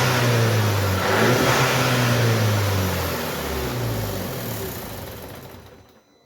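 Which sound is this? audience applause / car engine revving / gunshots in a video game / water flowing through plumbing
car engine revving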